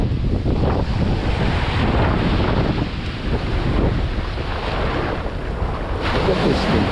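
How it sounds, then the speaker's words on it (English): Strong wind roars steadily across the microphone, with a dense rush of surf-like noise beneath it, continuous and loud throughout. "It's windy. Windy."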